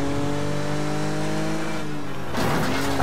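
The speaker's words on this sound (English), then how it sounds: "Big crash for us there." Car crash in the Wreckfest demolition racing game, with a droning engine and squealing tyres giving way to a sudden loud crunching impact near the end.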